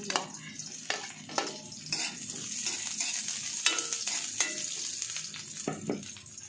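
Garlic, onion and ginger sauté in a pan, a continuous bright sizzle broken by repeated scraping and clinking stirring strokes, close and fairly quiet, with no talking.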